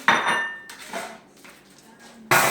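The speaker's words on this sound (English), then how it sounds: "and just toss them on a cooking sheet" Food is tossed onto a foil-lined metal cooking sheet, giving a few loud clattering, clinking impacts with a quieter scraping stretch between them.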